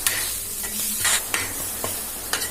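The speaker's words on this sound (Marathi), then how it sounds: "ताव्यावर टाकलं। बघा, आपण ते परतून घेऊया छान।" Egg bhurji with turmeric, chili and salt sizzles steadily on a hot tava while a spatula stirs and scrapes it in a few quick strokes, close and fairly loud.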